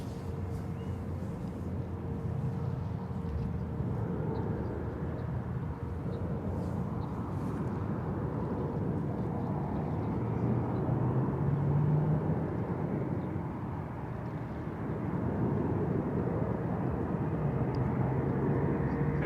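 Boeing 787-9 Dreamliner arriving from Tokyo Haneda, landing at San Francisco International Airport: a fairly quiet, distant engine rumble that swells slightly partway through, with a faint whine riding on top.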